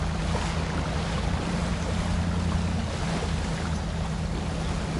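In the off-road driving game Spintires, a heavy truck rolls through water, its engine a steady low hum under continuous broadband splashing and rushing water, with no talk.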